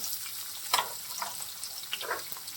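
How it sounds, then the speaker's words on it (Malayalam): Chopped onions and ginger fry in a pan while a masala dosa filling is cooked, making a soft hiss with brief scraping and stirring bursts, close and fairly quiet, with no voices. "കുറച്ച് സവാള ചെറുതാക്കി വെച്ചത് ഇട്ട് കൊടുക്കാം."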